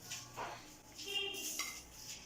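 A serving spoon scrapes and clinks against a pot and dish while Karachi biryani is plated, giving soft, close, intermittent metallic scraping at low volume.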